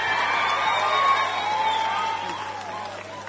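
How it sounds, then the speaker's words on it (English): Crowd applause at the Moshoeshoe Walk 2024 event, a steady wash of clapping and cheering that fades slightly over a few seconds, with a faint voice mixed in. "A round of applause, please."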